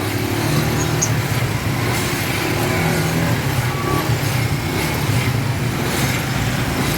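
Steady road traffic on a street in Tanauan, cars and trucks rolling past in a continuous low rumble at moderate distance, no voices over it.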